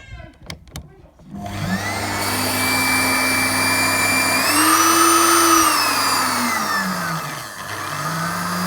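A homemade blower motor whirs up to a steady loud hum, its pitch swelling and dipping, after a few brief clunks and rattles at the start.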